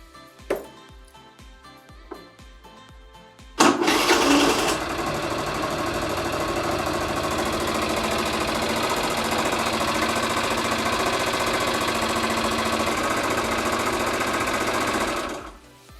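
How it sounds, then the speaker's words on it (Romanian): A GY6 four-stroke scooter engine idling to warm its oil, a few clicks and a starter attempt first, then the motor catching and settling into a steady, rapid rattling idle that runs uninterrupted until it cuts off. "vă recomand să porniți scooterul și să-l lăsați să meargă la relantii aproximativ 10 minute"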